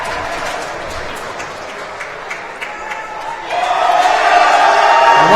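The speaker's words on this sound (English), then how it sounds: "And once more, a round of applause" Spectators at a Long Island Amateur Hockey League Midget 18 championship applaud and cheer the Greater New York Stars, a steady crowd noise that swells louder partway through, with voices shouting within it.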